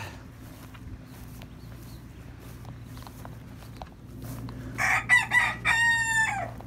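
Chickens cluck and call near the end, one loud crow-like squawk rising over a low background hum and some faint movement.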